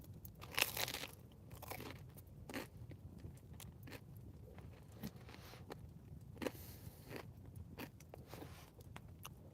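Crisp grilled cheese, cooked over a campfire, bitten and chewed up close, with sharp crunches scattered through steady quiet mouth sounds and no talking.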